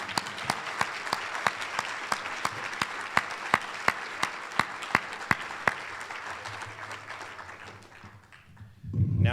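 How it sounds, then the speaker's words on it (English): A room full of guests at a summer awards banquet claps steadily for several seconds, the applause thinning out and stopping near the end before a brief low rumble of movement. "Let's give them a round of applause."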